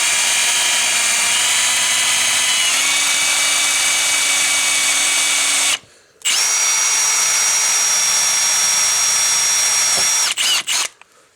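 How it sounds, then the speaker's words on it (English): A high-pitched power drill boring through a lock cylinder whines steadily up close, pausing briefly, restarting, then stopping with a few short bursts at the end. "you're going to drill straight through it."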